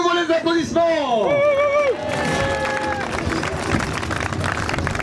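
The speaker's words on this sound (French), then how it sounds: "À nouveau les applaudissements." Applause and crowd noise at the finish of a cycling race at the Roc d'Azur 2011, a steady broadband clapping swell that takes over after a voice rings out with rising and falling tones at the start.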